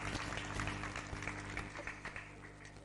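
A gathering at a Jain temple pilgrimage site applauds in honour of donors, a continuous roomy patter of many hands clapping at moderate level over a faint electrical hum from a sound system.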